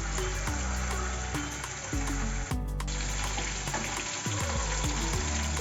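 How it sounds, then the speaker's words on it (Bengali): Prawns frying in oil give a dense, hissing sizzle, broken by a few clattering bumps as they are turned in the pan. "মোটামুটি 2-3 মিনিট এদিক ওপিক করলেই মোটামুটি চিংড়ি মাছ ভাজা"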